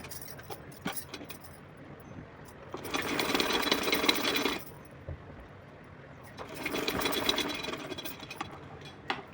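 A sewing machine stitches a thin fabric strip for a small Laddu Gopal deity dress in two separate runs, each a few seconds of close, fast whirring, with quiet pauses between.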